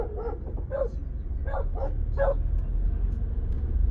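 Several dogs bark and yip in short bursts at a rural house, fairly close, with a low rumble of a vehicle underneath and no talking.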